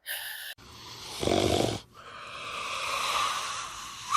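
Heavy, labored breathing close to the mic after a deadlift set during outdoor strongwoman training in a garden: a long rasping inhale followed by slower, drawn-out breaths, with no talking.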